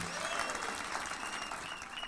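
A crowd applauds steadily and evenly throughout, heard from a distance and fairly faint.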